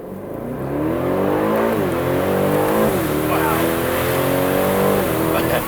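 An Aston Martin DB12 Volante engine roars and climbs through revs as it accelerates hard, shifting up with brief dips in pitch, loud and close.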